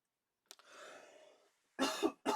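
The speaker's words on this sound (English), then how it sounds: "Nasty cough." A person coughs indoors while building a Novo Hotspur troop-carrying glider model: a short hoarse hack and drawn-out wheeze, then a louder double cough close to the mic, with quiet surroundings.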